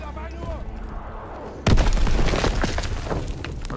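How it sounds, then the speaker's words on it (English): Artillery shells strike a beach in the World War II shooter Call of Duty WW2. After a quieter lead-in, one sudden, heavy, close blast erupts partway through, then rolls into sustained rumbling and crackling battle noise. "Artillery's hitting the beach"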